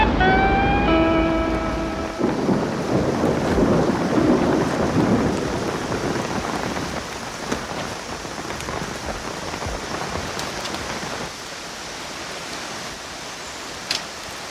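Heavy rain pours down steadily in the bush with a broad hiss, a low rumble of thunder rolling beneath it early on, and scattered louder drips.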